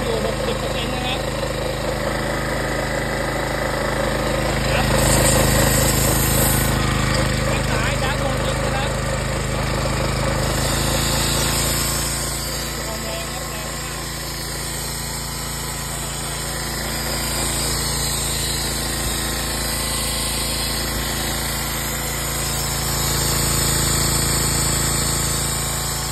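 A Kyoritsu engine-driven sprayer pump with a ceramic piston runs continuously with a loud, steady mechanical drone and rattle, while someone talks over it.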